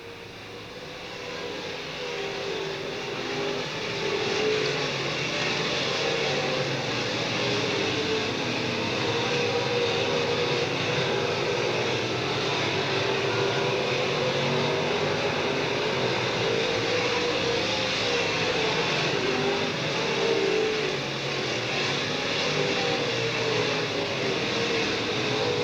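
Race cars circling the Talladega short track during a 2009 race show, a steady, continuous roar of engines with a broad droning hum that holds evenly throughout, heard from a distance with no talk.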